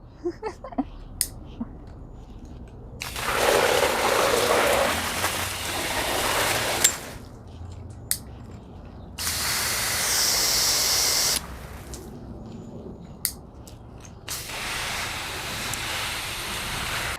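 A Flexi Hose telescoping watering wand sprays water in the garden in several hissing bursts of a few seconds each, separated by pauses with a few small clicks and taps.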